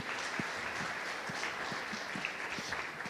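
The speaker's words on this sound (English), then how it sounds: "Big applause for Giuseppe." A summit stage audience claps for a speaker being introduced, a moderate, steady patter of applause with faint low thumps, fairly quiet and distant.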